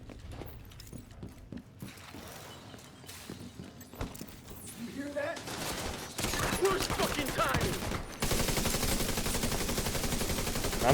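Hip-fired gunfire in The Division 2, dense automatic bursts building from moderate to loud with a continuous rattle near the end, mixed with game effects.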